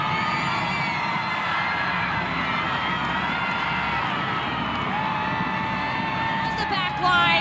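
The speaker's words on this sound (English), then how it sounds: "The crowd goes wild because Seattle Reign have equalized." A stadium crowd roars and cheers for a Seattle Reign equalizing goal in women's soccer against Bay FC, with a sustained loud swell of whoops and shouts and a commentator talking over it.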